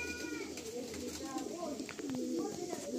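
Red pigeons coo in low, rolling phrases close by while a person talks over them throughout.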